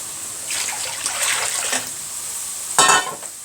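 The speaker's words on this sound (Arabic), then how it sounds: "هضيف لها شويه ميه" Water poured into a pan of drying tomato sauce for kofta and potatoes, a soft hissing splash that rises and falls over a faint sizzle, ending in a sharper burst of bubbling near the close.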